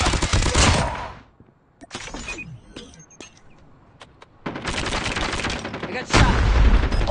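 Loud bursts of automatic gunfire rattle in Call of Duty Mobile, heavy firing at the start, a quieter stretch with scattered clicks and single shots, then sustained close-range shooting returning and intensifying toward the end.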